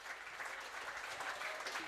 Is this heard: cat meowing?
no